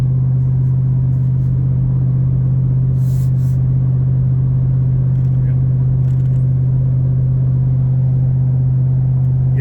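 A loud, deep V8 exhaust drone hums steadily from a moving truck with a Coyote engine, a constant low rumble with occasional faint rattles and no pauses.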